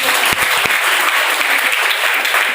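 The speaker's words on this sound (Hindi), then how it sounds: "एक जोरदार ताली आप सबके" Loud, close audience applause at a business networking seminar, continuous crisp clapping throughout with a few sharp thumps early on.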